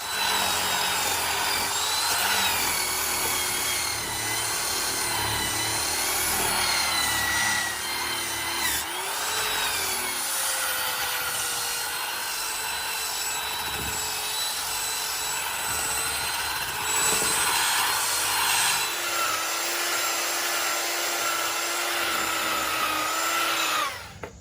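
A Restore rotary power tool cleans up a wooden joint on a birdhouse, a steady high whine running continuously and loudly throughout with slight shifts in pitch and load.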